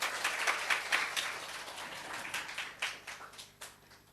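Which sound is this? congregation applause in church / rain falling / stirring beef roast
congregation applause in church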